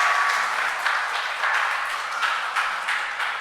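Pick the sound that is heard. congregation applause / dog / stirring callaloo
congregation applause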